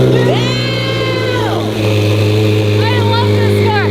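A car engine drones steadily and revs up and down while the car is driven, close and loud, with talking over it.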